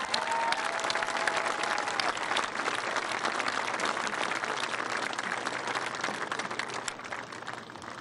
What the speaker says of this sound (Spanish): Un aplauso, ¿no? Inauguramos.